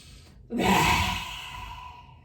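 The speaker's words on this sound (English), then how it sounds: "Let's have a lion breath here. So take a deep inhale and let it all out." A single deep, forceful exhale out through the mouth with the tongue out, a yoga lion breath done after a full inhale, rushing loud and breathy for over a second and then trailing off, with no talk.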